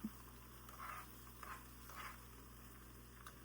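An egg mixture frying in a pan beside meat while breakfast is cooked, a faint, steady sizzle with soft crackles and a few brief stirring sounds, no voices.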